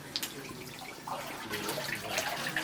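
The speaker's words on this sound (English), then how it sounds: "push it back and forth into the water" Water sloshes and splashes in a gold pan as sand is pushed back and forth during gold panning, a brief run of close, uneven swishes and trickles with no talk.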